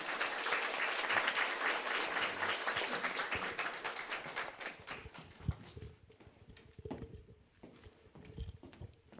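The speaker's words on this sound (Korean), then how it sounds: "격려의 박수를 한번 쳐드리겠습니다" A church congregation applauds during a Sunday worship service, starting as dense, full clapping that thins after a few seconds into scattered, uneven claps and a few single slaps.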